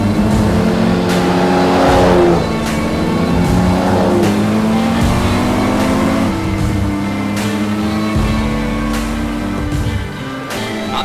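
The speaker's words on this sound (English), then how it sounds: "Up to the finish, and it's the Aston Martin driven by Collins and Griffiths that's going to do it" An Aston Martin race car roars at full throttle at the Goodwood Revival, a loud, steady engine howl with gear changes and rising pitch sweeps as it passes close by, sustained throughout.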